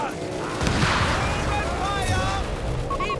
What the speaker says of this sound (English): The airburst coming in from the mortar.